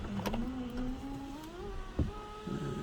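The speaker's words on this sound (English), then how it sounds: "It also has panoramic roof, which actually rolls back." An electric motor drives the panoramic roof of a Renault Twingo GT as it rolls back, ignition on and engine off, a thin rising whine that sounds slow and laboured on a weak battery, close by with a small clunk partway through.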